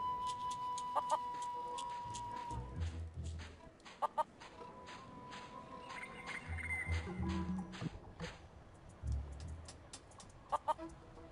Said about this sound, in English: Plunder Island feral chicken. One of Plunder Island's most common fauna